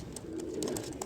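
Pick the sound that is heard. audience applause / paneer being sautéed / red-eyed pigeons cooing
red-eyed pigeons cooing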